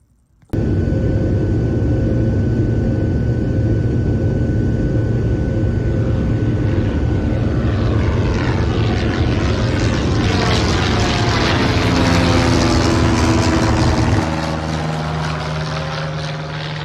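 Inside a Southwest Airlines passenger plane, the engines roar in a loud, steady drone that fills the cabin and shifts slightly in pitch toward the end.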